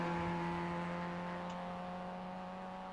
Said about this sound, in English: Gotta listen to these little 4-bangers ripping.